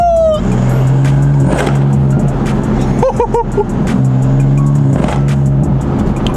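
A stock BMW M4 driving on a road at night, its engine droning steadily with a few short exhaust pops crackling midway as the throttle lifts, loud and close from inside the car.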